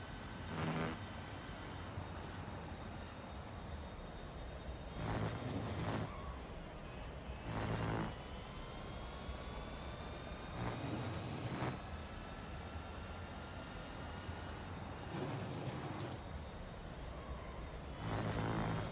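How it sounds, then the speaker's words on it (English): Car tyres squeal on the edge of grip in the racing video game Real Racing 3. Recurring bursts of tyre noise rise several times over a steady engine drone with whining high tones. "You can hear it just about to skid right on the edge there."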